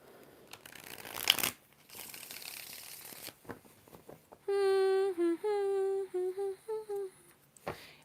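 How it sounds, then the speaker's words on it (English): A tarot deck is shuffled in two brisk papery riffles near the start. A person then hums a wavering tune in several sustained notes, with no words. "Two more shuffles for Oprah."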